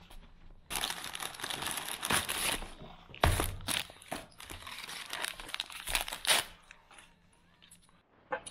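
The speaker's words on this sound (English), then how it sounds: "this is the butyl tape we're going to be using" Crinkling and crumpling of plastic-backed butyl tape, in bursts of rustling and tearing close up, with short pauses between handling noises, in a Renault Trafic van.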